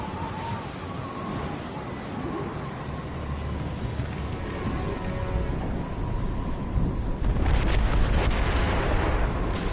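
Mortar shells pound a sailing ship during an ambush in Assassin's Creed III, a loud rumbling barrage with a heavy blast near the end over rushing sea and wind.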